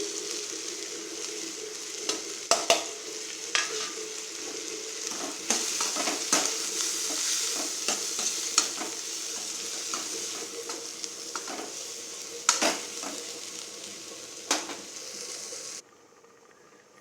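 Snake gourd sautéing in a pan, a close, continuous sizzle broken by frequent stirring clatters and scrapes, cutting off abruptly near the end.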